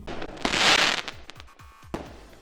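Fireworks exploding over Toyota Stadium in North Texas during a July 4th show: a loud, crackling burst followed by a run of deep booming thumps and another sharp bang near the end, heard from a distance.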